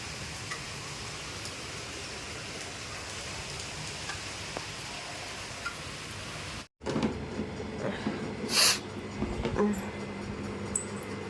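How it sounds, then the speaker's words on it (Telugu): Heavy rain falls under a thick cloud cover, first as a steady dense hiss and then, after a brief cut, as a closer patter mixed with a few scattered knocks. "ఇంకా ఎక్కువైపోయింది వర్షం వచ్చేసి"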